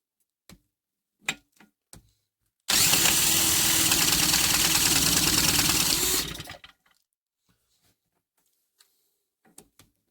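A diesel engine being test-run fires up abruptly and runs with a loud, steady clatter for about four seconds before cutting out, with scattered clicks and knocks in the quiet before and after.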